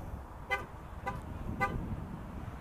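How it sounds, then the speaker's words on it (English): Dodge Charger, a 2014 SE RWD sedan, sounds three short horn chirps spaced about half a second apart to warn that the keys are locked inside, heard nearby against quiet background noise. "That is your charger letting you know that you've locked your keys in your car"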